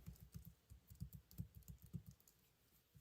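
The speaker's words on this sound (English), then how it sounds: "Now I'm just typing alphabets and numbers. Hopefully you can get a sense of how typing on this keyboard feels." Rapid, steady typing on an Arteck slim, ultra-light portable wireless Bluetooth keyboard with backlit keys, with close, soft clicks in quick bursts that stop near the end.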